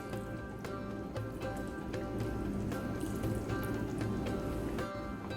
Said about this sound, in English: Now we'll add some saffron infused water onto this.